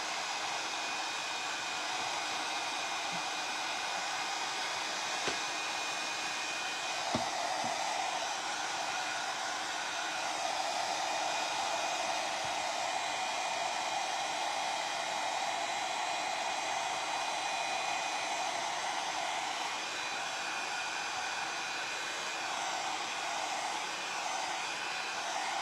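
Hair dryer blowing steadily on a paper mache egg, a loud continuous whirring hum that holds nearly unchanged for the whole stretch with only faint brief clicks, no talk.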